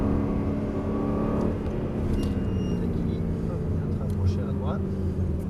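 A car engine revs and builds speed as a learner driver eases onto the accelerator and releases the clutch during a lesson, its hum rising under an instructor's steady speech.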